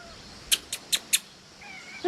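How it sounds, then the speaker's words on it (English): A cat gives four short, high meows in quick succession, close but soft, followed by a faint thin tone and a brief louder sound at the end, over quiet room hiss. "That's a Gabby kitty"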